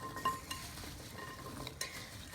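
A spoon stirs a butternut squash mixture in a bowl, producing a continuous moist scraping and swishing with small clinks, close up and with no talking.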